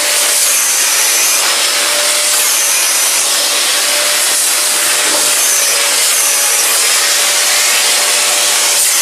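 A Eureka Forbes Xforce vacuum cleaner runs loud and steady as its nozzle works over a fabric curtain, a constant whooshing roar with a faint whine and slight shifts in tone as the nozzle rubs across the cloth.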